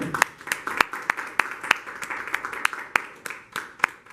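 A church congregation claps in praise at a Panamanian service, a fairly steady, moderately paced run of sharp claps from a small group, heard at a middling distance with no speech over it.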